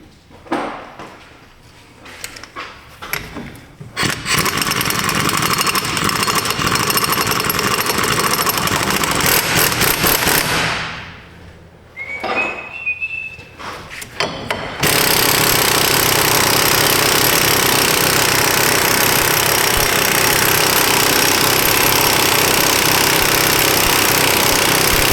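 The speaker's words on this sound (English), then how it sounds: "We're gonna press our brand new hub face in." A new front wheel hub is pressed into the steering knuckle of a 2010 Toyota Corolla, with loud sustained hydraulic press noise, metallic creaks, a pause, then a long steady mechanical roar.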